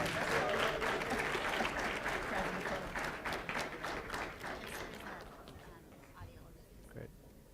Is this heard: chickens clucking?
no